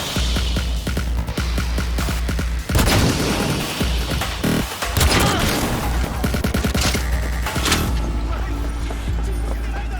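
Dense bursts of gunfire and booming impacts in Cyberpunk 2077 as shots go through walls, rattling in rapid volleys over a steady low game rumble.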